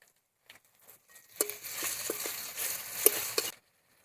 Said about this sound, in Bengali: এবার দিয়ে দেবো পেঁয়াজ আর কাঁচা লঙ্কা